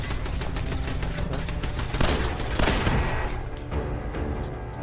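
Turrets fire in the game Fallout 4 as a rapid, dense burst of automatic gunfire, with a heavier booming swell in the middle before the shots taper off.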